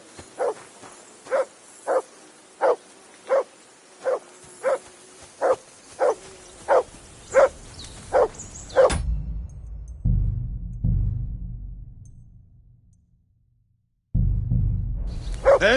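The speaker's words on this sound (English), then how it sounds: "That dog of yours is barking like the devil." Dog in the medieval game Kingdom Come: Deliverance 2 barks in a steady run of about a dozen evenly spaced, loud barks, then falls quiet as low rumbling ambience and muffled sounds take over.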